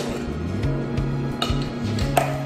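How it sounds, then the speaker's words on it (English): Whisk rattling steadily against a bowl of dry ingredients with salt and baking powder, a close, rhythmic scraping with a few sharper clinks. "We're just going to whisk this together."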